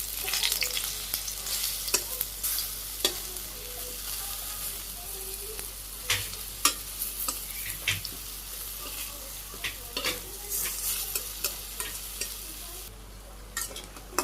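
Boras (fritters) fry in hot oil with a constant close sizzle, broken by scattered clicks and scrapes of a utensil as the fritters are flipped in the pan.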